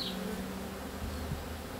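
Bees hum in a steady, dense buzz at an open beehive during relocation, close and continuous over the short span, with no voices.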